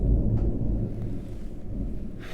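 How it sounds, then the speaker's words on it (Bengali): Low, rolling thunder rumbles steadily outside during a rainstorm, a continuous deep roar close enough to fill the room, with a faint rain hiss rising at the end. "বাইরে বৃষ্টি বজ্রপাতের আওয়াজ হচ্ছে"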